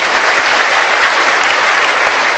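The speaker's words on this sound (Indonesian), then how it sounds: "Tepuk tangan bener-bener ya." Brief burst of loud, dense applause from a large crowd at an Indonesian public talk, close and continuous throughout with no voices over it.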